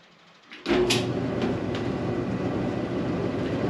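Speed Queen commercial dryer starting up after a door switch replacement: a clunk and whoosh, then a steady loud tumbling rumble with a continuous mechanical drone.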